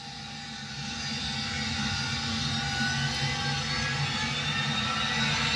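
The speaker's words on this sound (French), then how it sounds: "Avion décollé." Steady, loud engine roar of an airplane taking off, a broad continuous rumble that builds slightly and holds, with no voices over it.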